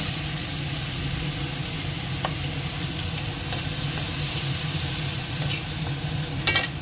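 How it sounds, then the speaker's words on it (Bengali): Prawns fry lightly in a pan, giving a steady, even sizzling hiss that holds at a constant level throughout, with a few faint clicks near the end and no voices. "চিংড়ি মাছটা একটু ভেজে নিই"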